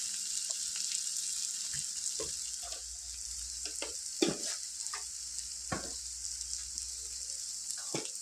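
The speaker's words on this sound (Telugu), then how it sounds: "దీన్ని ఇలాగే ఒక టూ మినిట్స్ ఫ్రై చేసుకొని క్యాప్ పెట్టుకుందాం" Potato and chana dal curry frying in a pan makes a faint, steady sizzle broken by occasional soft stirring scrapes and taps, heard alone without talk.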